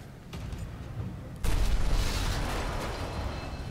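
Mortar titan firing in Titanfall 2 Frontier Defense: a heavy booming impact lands partway through, followed by a sustained loud rumbling roar of combat, with no talking.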